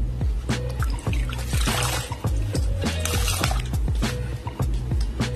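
Water splashes and trickles as mokha leafy greens are swished and rinsed, with steady dripping and sloshing up close.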